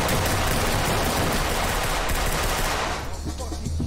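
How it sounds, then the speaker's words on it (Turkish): Rapid automatic gunfire in a multiplayer shooter video game, a dense loud continuous burst of shots that cuts off near the end, leaving quieter background noise. "Okey, silah sesine doğru geliyorum."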